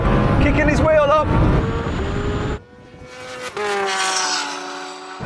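A twin-turbo Lamborghini Huracán accelerates hard in a drag race against a Kawasaki H2R, its loud engine climbing in pitch through gears under excited talk, then dropping off and resuming from a distance.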